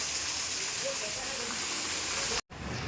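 Steady broadband hiss of rain falling, continuous and fairly close, briefly cut off near the end before resuming.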